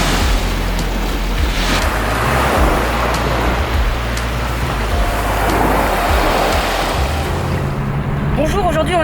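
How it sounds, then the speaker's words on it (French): Surf breaking steadily on a summer beach in Corsica, a continuous loud wash of waves with wind buffeting the microphone throughout. "Je vous laisse avec la belle plage."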